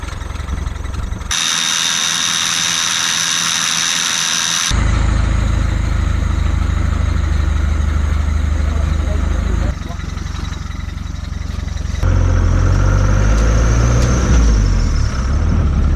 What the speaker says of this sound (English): I want to do a comparison on the 12 and 24 volt on the worn winch